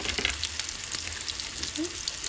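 Chicken coated in crushed taco shells deep-frying in hot oil over a medium flame, giving a steady, dense sizzle with a bubbling hiss that runs without a break from start to finish.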